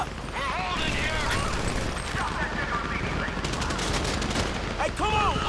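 Sustained gunfire in Grand Theft Auto V during a heist shootout, with dense automatic bursts rattling continuously under shouted voices and radio-style chatter, loud and unbroken.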